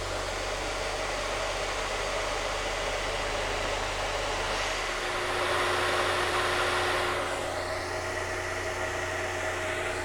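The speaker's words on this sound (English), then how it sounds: "And here we go, turn it on. Not the compressor, just the cooling system." Cooling system of an Air Venturi 4500 psi compressor runs alone with the compressor itself off, a steady, fairly quiet whooshing hum with a low tonal drone beneath it that eases slightly partway through.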